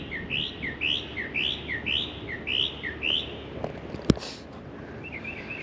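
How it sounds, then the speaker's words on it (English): Bird chirping nearby outdoors, a steady rhythmic series of short repeated high chirps, moderately loud, followed by a sharp knock and a few faint later calls. "It's a horny ass bird."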